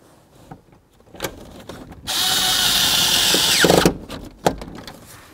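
A power drill drives screws into the shifter boot trim inside a 1994-2004 Chevy S-10 pickup: one steady, loud burst of whirring lasting about two seconds, framed by faint clicks and handling noises before and after.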